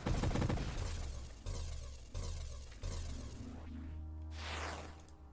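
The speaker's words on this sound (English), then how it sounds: "it's not triggered by the enemy, it is just explosions" In the space shooter game Nova Drift, a dense barrage of explosions crackles and booms in overlapping bursts, several sharp blasts followed by a fading rumble and a brief whooshing effect near the end.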